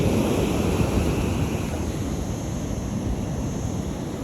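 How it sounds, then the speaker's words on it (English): Steady broadband wash of ocean surf rolling onto a beach on a sunny day, continuous and fairly loud with wind buffeting the microphone, no distinct individual wave crashes standing out. "I'm seeing very light ocean spray all the way down the beach here from the waves, from the wave action."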